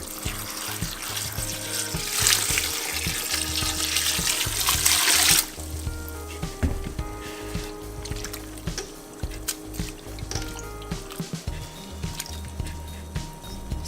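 Water pours and splashes into a bowl of sliced bitter melon, a loud rushing stream for about five seconds, then quieter trickling, dribbling and light clinks while the slices soak.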